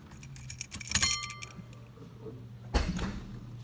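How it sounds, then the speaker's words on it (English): Trunk latch on a 1972 Lincoln coupe, preceded by keys jangling; a sharp mechanical clunk lands near the end, fairly close and moderately loud, with no talk. "That large sound you just heard was the trunk opening."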